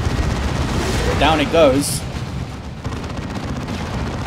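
A Venom Cannon in the real-time strategy game Dawn of War 2 fires in a dense, rapid barrage of heavy gunfire and impacts, with a voice briefly speaking over the battle noise.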